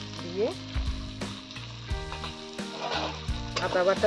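A paste of ground coriander, cumin, chili and ginger fries and sizzles loudly in a pan while being stirred, with scraping spoon strokes over the continuous crackle.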